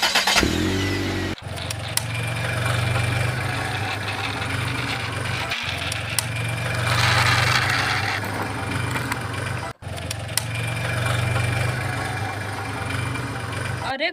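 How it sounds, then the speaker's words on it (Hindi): A truck engine starting and running: a cranking start followed by a steady low idle hum, loud and close, with brief interruptions, no speech. "अब मैं गाड़ी चलाने जा रहा हूँ।"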